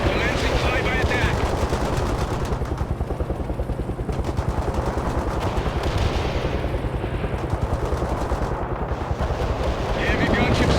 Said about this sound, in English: Commencing flyby attack.